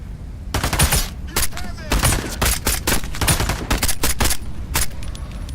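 Loud gunfire in the video game Into the Radius 2: a flurry of close, sharp shots in quick irregular bursts and single cracks, with occasional short pauses between volleys.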